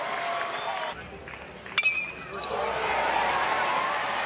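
Baseball stadium crowd at a 2023 college game between Coastal Carolina and Duke, a broad roar of cheering that dips briefly then swells and holds, with a sharp knock in the middle and a commentator's voice over it.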